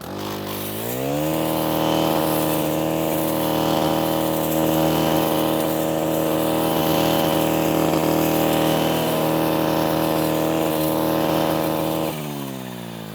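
A string trimmer fitted with a grass blade runs at steady high speed while cutting thick grass, its engine winding up at the start and dropping off near the end, loud and close with no talk.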